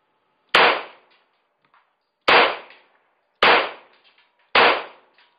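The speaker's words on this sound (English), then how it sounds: "let me rack the slide back. Okay, and let's crack off some rounds." Four sharp, loud cracks from a Smith & Wesson 22A-1 .22 pistol fired from a bench rest outdoors, spaced about a second or more apart, each decaying quickly into near silence.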